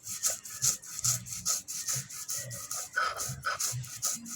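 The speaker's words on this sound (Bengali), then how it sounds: "কাজু, সর্ষে, পোস্ত একবার বেটে নেব।" Cashews, mustard seeds and poppy seeds are ground into a paste with rhythmic back-and-forth scraping strokes, about two per second, close by and without talk.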